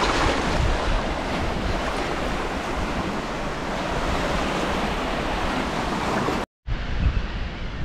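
Waves wash steadily at the water's edge of Lake Erie at Sterling State Park, Michigan, a continuous broad surf roar mixed with wind buffeting the microphone, with a brief cutout near the end.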